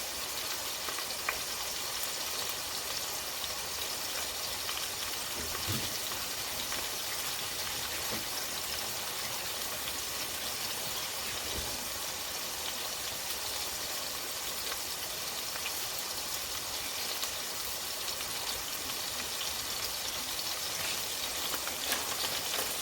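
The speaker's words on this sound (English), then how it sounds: "let me wash my hands" Running water from a tap splashes steadily over hands in a home kitchen. A soft, continuous hiss stays even from start to end, close and faint, with no talking.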